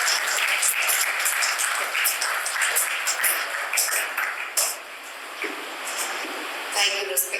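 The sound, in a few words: audience applause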